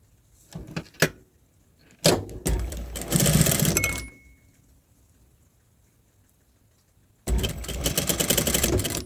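A sewing machine stitches a bra strap in short bursts of close, rapid motor whirring, several brief runs, then a pause, then a longer steady run.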